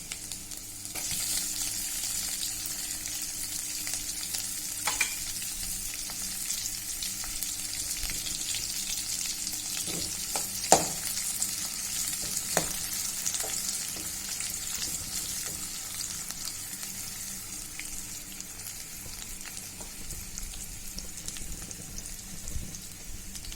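Onion and green chili fry in a pan for a bean curry, a steady, quiet sizzle with soft crackles and occasional stirring scrapes and clinks close by, lasting throughout with no talking.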